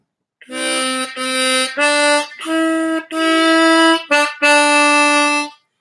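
A diatonic harmonica plays a phrase of Ode to Joy, about seven reedy notes in a steady rhythm with short gaps and one quick note near the end, close and clear with no voice.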